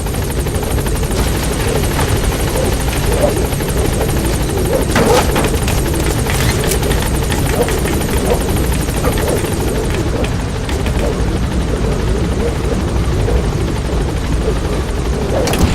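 Pequod, the support helicopter in Metal Gear Solid V: The Phantom Pain, arriving at a landing zone; a loud, steady rotor and engine roar holds close and constant throughout.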